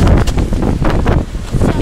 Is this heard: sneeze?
no